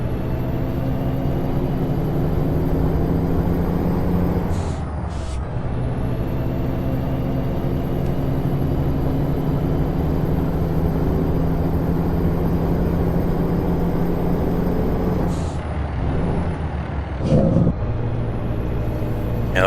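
Heavy Kenworth W900 truck engine in American Truck Simulator, steady loud diesel drone with harmonic hum that sags and winds down as revs drop, with brief hissing bursts around the gear changes.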